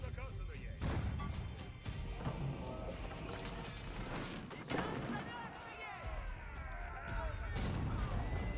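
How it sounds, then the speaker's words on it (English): Cannon fire booms through an Age of Empires IV battle, with several heavy crashing impacts amid a dense, noisy clash of combat sounds, moderately loud, while people talk over the action. "Oh god, that's the cannon."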